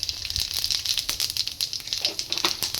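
Cumin seeds crackle and sizzle in hot oil for tempering, a close, steady spitting with rapid irregular pops throughout, and no voices heard.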